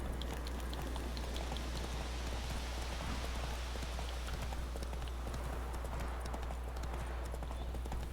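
Horse hooves clopping in The Witcher 3: Wild Hunt, a steady run of hoofbeats over a constant noisy bed that sounds like rain, with no talk over it.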